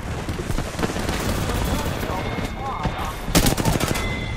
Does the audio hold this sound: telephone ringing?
no